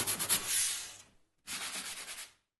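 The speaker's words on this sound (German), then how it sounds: "kann man das mit dem Schleifklotz hier ein bisschen wegschleifen." Sanding block rubbing the wood of a cajon drum kit to smooth away splinters around drilled holes, two close, raspy strokes separated by a brief pause.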